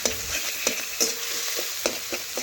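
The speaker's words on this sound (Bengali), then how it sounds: "এখন কড়ার মধ্যে মাছের ডিম আগে ভেজে নেব এ দেখুন এখন খুরপি দিয়ে নাড়াচাড়া করে" Fish roe fries in a wok while a spatula stirs it, giving a loud, close, steady sizzle punctuated by regular scraping strokes, with no voices.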